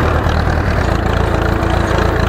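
An Ursus C-360 tractor engine runs steadily on a farm field, a loud, close, low rumbling drone with an even throb and no voices.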